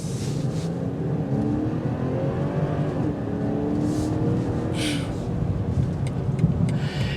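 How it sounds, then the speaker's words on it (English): A 2022 BMW 740i M-Sport accelerating from a near stop, a steady engine drone and muted exhaust note building smoothly from inside the cabin, with a few faint ticks and rustles near the end. "You get a little bit of the exhaust notes"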